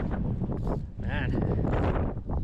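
Wind buffets the microphone beside a river during fly fishing, gusty rumbling noise with a person talking under it.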